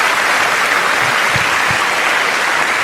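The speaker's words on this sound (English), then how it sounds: "Et je vous demande d'applaudir" Broad, steady audience applause at a community awards ceremony in the Greater Toronto Area, loud and continuous with no gaps.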